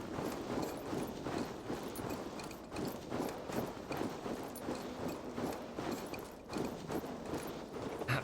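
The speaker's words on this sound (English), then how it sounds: "It's the snow, the kind of footsteps, the noise it makes." Footsteps crunching through snow in the Assassin's Creed Valhalla video game, a steady run of quick crunchy steps at moderate level with no talk over them.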